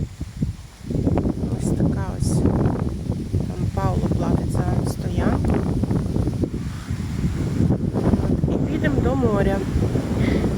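Wind rushes and buffets across a seaside beach, a steady broadband roar into the microphone. People talk throughout over the blustery noise.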